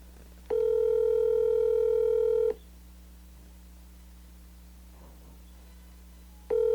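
A phone call rings out with two long, loud, steady tones separated by a quiet gap of about four seconds, and a third tone begins at the end.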